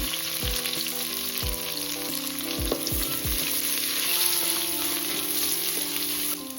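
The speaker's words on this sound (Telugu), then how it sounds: "దాల్చీని, ఇలాచీ, లవంగాలు, తరిగిన ఉల్లిపాయలు, మిర్చి వేగనివ్వాలి." Cinnamon, cardamom, cloves, chopped onions and chillies fry for a biryani in a loud, continuous close sizzle, punctuated by a few sharp stirring clinks, with no talk.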